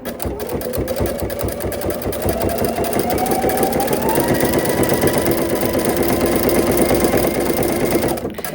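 A sewing machine runs steadily, stitching satin trim onto a fleece blanket and turning a corner down the long side, its motor a continuous close hum with a faint rising whine, no talking over it.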